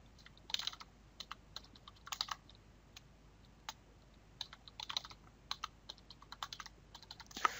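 Keys clack on a computer keyboard as a user name and password are entered during a RHEL 7 install in VMware Workstation 9. The keystrokes come in quick, irregular clusters with short pauses, close and moderately loud, with no talk.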